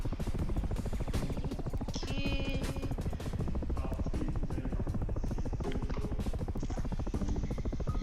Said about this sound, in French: j'ai pris l'hélico pour vous montrer les avions